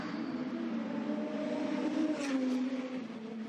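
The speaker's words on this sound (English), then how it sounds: "there's the Porsche, stops on its marks" Porsche GT2 race car rolling into a pit stop at Misano, a steady engine drone at low revs that holds and eases off as it comes to a halt, close and fairly loud.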